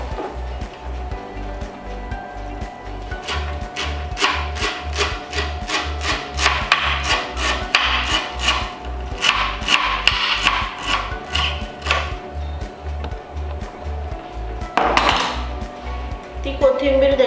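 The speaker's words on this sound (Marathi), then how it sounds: "त्याच्यानंतर थोडीशी कोथिंबीर कट करून घेऊया" A knife chops coriander on a board in a fast, steady run of close, even thuds, pausing briefly before a final scrape as the chopped leaves are gathered.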